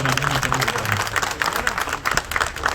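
Applause from a crowd honoring engineering and municipal officials at a public gathering, a dense steady patter of many hands with some voices mixed in.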